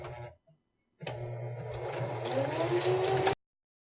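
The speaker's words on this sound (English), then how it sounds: "I'm lining up the foot of my sewing machine with the edge of my fabric." A sewing machine stitches along a fabric edge in one steady stretch of about two seconds, its motor whirring and humming close up after a brief faint sound.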